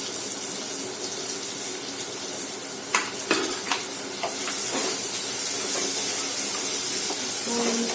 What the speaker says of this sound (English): I'm going to mix the drumstick properly with the oil